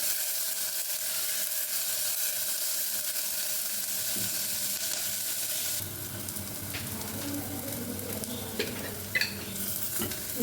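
Ginger, garlic and green chilli sauté in a pan for a potato curry, a soft steady sizzle with occasional scraping stirs and light clinks of a utensil.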